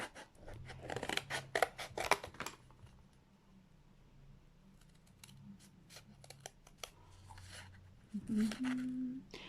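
Felt is cut with scissors in a crafting session, giving a run of crisp snipping strokes up close near the start, then quieter handling noises and a louder burst of cutting at the end.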